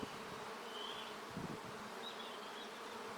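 Honey bees buzzing around an open hive during an early season inspection, a dense continuous drone of many bees, close and steady, with no talking.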